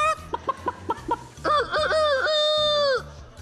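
A small rooster clucks a few short, sharp times, then lets out a loud, close, drawn-out cock-a-doodle-doo crow that fades at the end, with no talk over it.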